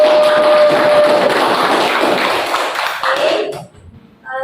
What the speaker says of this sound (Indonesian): Tepuk tangan lagi buat kalian dulu